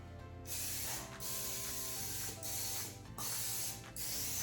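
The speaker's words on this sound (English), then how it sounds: "I've got my muffin pan here, and I'm gonna grease it really quickly" Cooking spray hisses onto a muffin pan in three separate bursts of about a second each, loud and close, with short pauses between them and a steady mechanical hum underneath.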